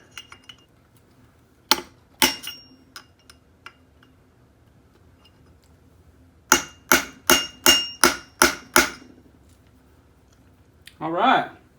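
A punch is struck with a hammer to peen a part during a Honda 400ex clutch rebuild: two isolated metallic taps, then a quick run of about eight sharp ringing blows, followed by a short muffled voice.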